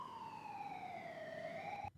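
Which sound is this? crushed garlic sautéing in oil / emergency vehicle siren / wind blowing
emergency vehicle siren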